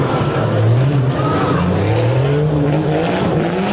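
A monster truck with a bright green Jeep body and a single exhaust stack through the hood roars loudly at an outdoor arena show. The engine note rises and falls as it revs, with a faint voice underneath.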